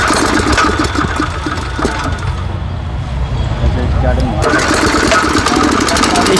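A homemade mini tractor engine for farm use running loud and close, with a rough, rapid mechanical chatter that dips briefly and then picks back up.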